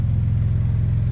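An Audi S4 cruising at night on a mountain road near Aspen, a steady low engine drone and road rumble filling the cabin, continuous and fairly loud without voices.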